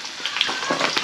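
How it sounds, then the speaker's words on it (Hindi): Onions frying in a pan, a steady close sizzle with soft crackling pops, heard alone without talk. "प्याज डाल दिया गंगा ने, प्याज थोड़ा ब्राउन हो जाएगा"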